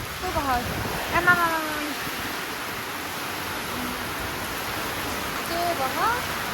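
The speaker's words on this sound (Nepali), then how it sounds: "पानी पऱ्यो केही सुन्ने छैन" Steady rain falls with a continuous broad hiss at moderate level, broken by a few brief, high, chirping or voiced sounds near the start and end.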